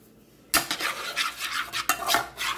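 Flour being stirred into melted butter in a pot for a broccoli cheese sauce: after a brief quiet moment, a spoon scrapes the pot in close, steady, rhythmic strokes that go on without a break.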